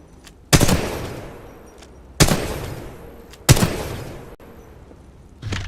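Gunfire in the Titanfall 2 video game tutorial, three sharp, loud shots spaced a second or more apart, each followed by a decaying echo, then a fainter fourth burst at the end.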